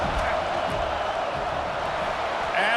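A college football stadium crowd during a field goal attempt produces a steady roar of noise, swelling louder at the very end as cheering rises.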